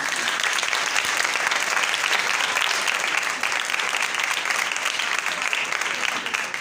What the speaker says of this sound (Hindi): अब जो लोग थके नहीं है वो दोबारा तालियां बजाएं